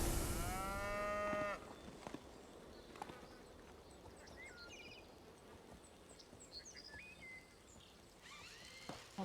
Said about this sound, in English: A purple cow?